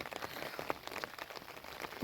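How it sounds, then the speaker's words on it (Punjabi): Faint, steady patter of rain on a surface, with scattered drops tapping irregularly throughout. "ਦੇਖ ਲੋ ਕਿੰਨਾ ਮੀਂਹ"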